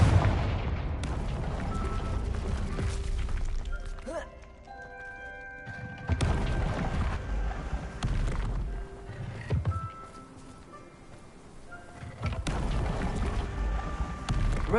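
A Confringo blast spell from Hogwarts Legacy goes off in sharp booming bursts, with heavy rumbling impacts and lingering crackle between them, loud and close amid game sounds and background music.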